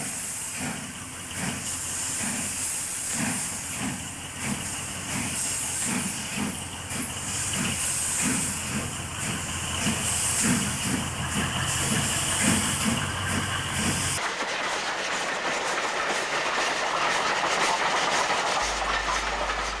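Steam locomotive 3214 heading a train near Geelong in January 1966, a loud steady hiss with rhythmic chuffing and rail clatter as it draws near and passes, then fading to a softer rumble.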